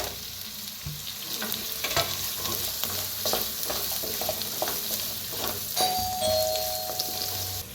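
Carrots sizzling in a pan with stirring as they roast for a rice dish, a steady frying hiss with scraping stir sounds throughout and a brief ding-like tone near the end.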